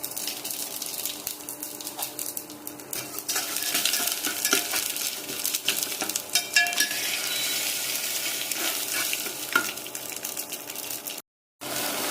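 Cumin and mustard seeds frying in hot oil in a pan with greens, giving a steady close crackling sizzle with scattered pops and stirring clatter throughout, then a brief cutout near the end.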